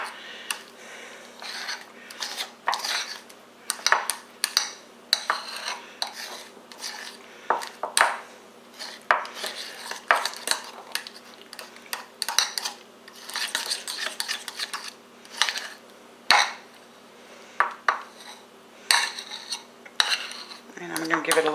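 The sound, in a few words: stirring lemon chili butter mixture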